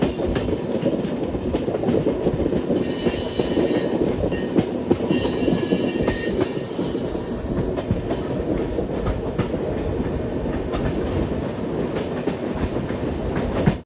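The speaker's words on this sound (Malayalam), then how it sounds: "ട്രെയിൻ ഇപ്പോൾ യലഹങ്ക ജംഗ്ഷനിലേക്ക് ഇതാ എത്തുകയാണ്" A passenger train runs on rails toward Yelahanka Junction near Bangalore, a steady loud rumble with rhythmic clickety-clack of wheels and faint squeals throughout, no voices.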